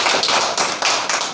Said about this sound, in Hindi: ईश्वर भैया के लिए एक बार जोरदार ताली होना चाहिए